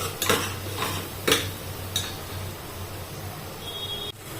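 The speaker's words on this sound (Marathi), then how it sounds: "गॅस मध्यम करायचा म्हणजे मग आपले मसाले जळले नाही पाहिजे छान परतू द्यायचे आता हे तेल सुटेपर्यंत" Metal spoon clinks and scrapes against a pan as spices are stirred in oil over medium heat, several sharp taps in the first two seconds over a low steady hum, no voices.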